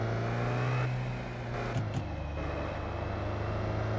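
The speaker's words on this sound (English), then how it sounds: "I'm just going to turn the car sounds down just a wee bit" Steady hum of a car engine in the driving game Driving Life, with a brief rev and a shift in pitch around the middle, continuous and moderately loud with no speech.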